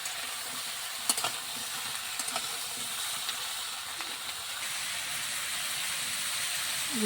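Taro stems sizzling steadily in a hot pan, a constant frying hiss with a few brief clinks near the start.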